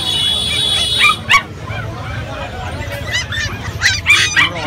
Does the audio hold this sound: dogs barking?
yes